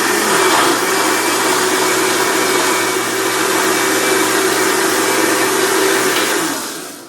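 A kitchen blender whirs steadily as it blends a low-fat fall harvest smoothie with brown sugar, cinnamon, vanilla and pecans. The motor drones loud and continuous for several seconds, then winds down at the end.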